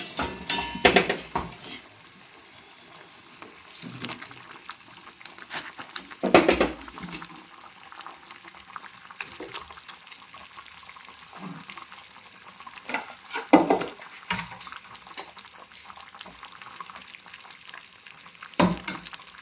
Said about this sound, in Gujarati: હવે આપણે આની અંદર બટાકા એડ કરી દઈશું.